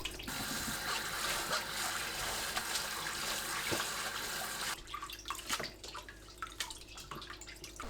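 Soaked dried miyeok seaweed is washed by hand in water. A steady close swishing, splashing wash gives way to scattered drips and small splashes, quiet and without speech.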